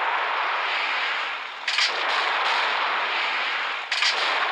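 Missiles fire and explode in the video game Gunship Battle. A dense, continuous roar of gunfire and blasts holds throughout, broken by a couple of sharper, louder bursts near the middle and the end.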